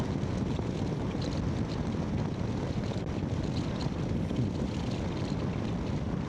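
Motorcycle engine pulling hard under a steady roll-on of throttle during a night ride, a dense continuous roar mixed with heavy wind rush, loud and unbroken throughout with no voices.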